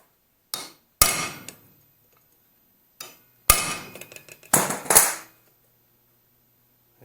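Hammer blows on a steel punch while tightening a Land Rover clutch fork clip: a single strike, another sharp one with a ringing tail, then after a pause a further four quick metallic hits, one after another close up.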